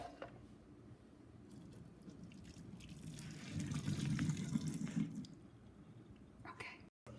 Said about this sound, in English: and pour out the water.